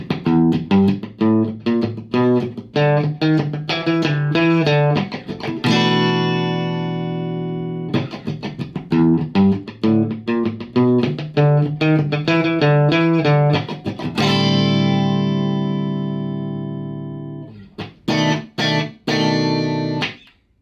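Bright guitar playing a rhythmic picked and strummed pattern, with ringing sustained chords letting out between busier passages; loud, close and alone.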